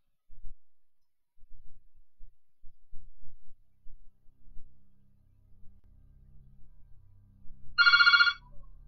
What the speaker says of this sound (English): And that's the phone.